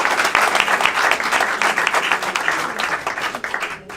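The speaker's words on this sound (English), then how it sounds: "round of applause for our debaters" An audience at a live political debate applauds the debaters, a full, lively round of many hands clapping close by, swelling and rippling briefly before tapering off near the end.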